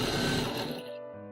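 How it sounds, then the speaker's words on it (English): A sewing machine runs in a quick burst, stitching the front pieces of an A-line dress, a close mechanical whir that winds down and stops within about a second. "Pin and sew the front pieces together."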